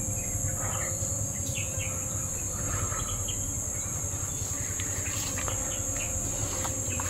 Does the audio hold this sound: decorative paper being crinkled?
no